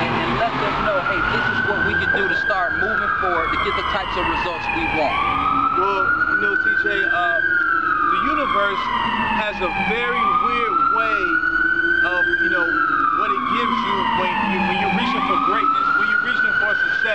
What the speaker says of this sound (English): I know you can hear the sirens in the background.